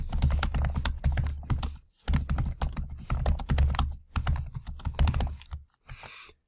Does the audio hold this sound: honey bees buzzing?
no